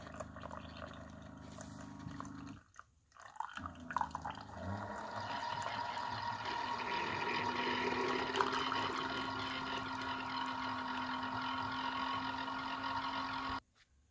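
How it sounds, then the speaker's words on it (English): A Mr. Coffee K-Cup single-serve coffee maker brews on its strong setting, pumping and hissing water in bursts. Brief stops and starts open the clip, then a long steady gurgling flow runs before cutting off abruptly near the end. "When you've got this strong brew selected, it doesn't pour the water all out at once. It brews a little bit, then stops."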